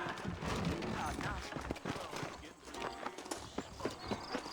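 Horse hooves clip-clopping in Red Dead Redemption, a steady walking rhythm of saddled horses close by, heard under conversation between characters.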